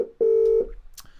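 Single steady electronic telephone tone, roughly half a second long and loud, as a number is dialed on a phone line, followed by faint background noise and a brief soft click.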